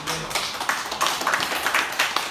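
Many hands clap together in a church congregation, a close, dense, uneven patter with a few sharper individual claps and no talking.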